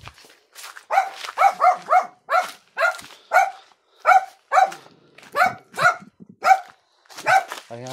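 A dog barks repeatedly in a steady series of sharp, fairly close barks, about a dozen in quick succession with short pauses.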